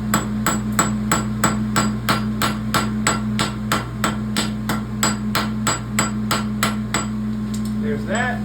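A farrier hammers a clip on a pony bar shoe, about eighteen sharp ringing metal blows at a brisk, even pace with a steady hum behind them, ending in a faint scrape.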